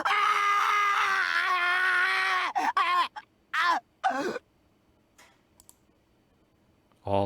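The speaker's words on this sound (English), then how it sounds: "All my blood went cold at that ear-splitting scream of agony." Ear-splitting scream of agony in a visual novel video game set in a stone smithy-like room, a long sustained loud cry breaking into gasping, choked fragments before fading, with a few clicks after.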